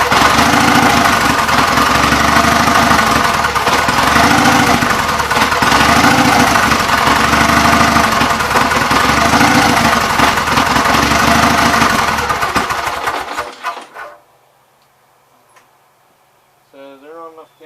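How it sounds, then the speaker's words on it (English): A Gravely mower engine with its flywheel screen rubbing runs loud and close, rough and pulsing with a ticking rattle, then dies away near the end, leaving near silence and a faint voice. "That flywheel screen rubbing makes a funny sound."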